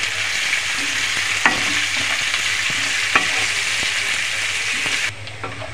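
Sliced onion fries with a pinch of salt in a pan already flavoured with garlic for chilli chicken, giving a steady loud sizzle with a few spoon clicks, close, with the hiss dropping off near the end; no one speaks.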